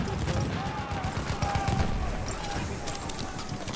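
Gunfire in the World War I shooter Battlefield 1, a dense battlefield fusillade of rapid overlapping shots and bursts, continuous and loud throughout with a low rumbling backdrop.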